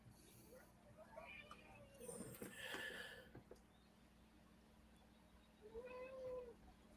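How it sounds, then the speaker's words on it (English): A pet cat meows several times close to the microphone, with a cluster of calls early on and another drawn-out meow near the end, over a quiet room hum. "My cat wants to talk, so that's why she's talking."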